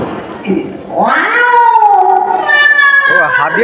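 A human voice imitating two old cats fighting, rising drawn-out yowls and caterwauling meows delivered loud and close, one continuous wavering cry after a short breathy start.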